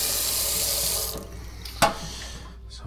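Water runs steadily from a leaking faucet at a lakehouse, a soft continuous rush that cuts off partway through, followed by a brief knock and low background hush.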